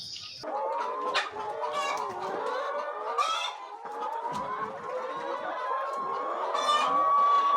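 Chickens in a poultry farm house clucking and calling continuously, a dense overlapping flock chorus at close range with occasional louder squawks and crowing-like calls, no talk.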